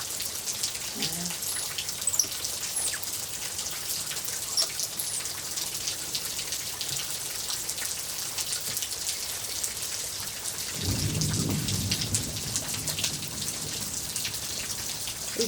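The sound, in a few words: rain falling, with thunder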